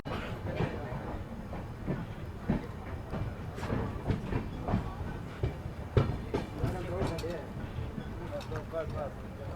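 The Tuticorin Express runs along the track between Bengaluru and Madurai, a steady rumbling roll with repeated clickety-clack beats from inside the carriage, while someone talks over it.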